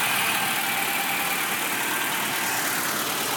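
Swapped engine in a 1987 Toyota Corolla AE86 idling steadily, heard as a close, even and continuous broadband hiss-like rumble with no speech.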